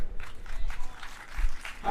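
Audience clapping at a church convention, a brief patter of applause in an indoor hall, faint and uneven.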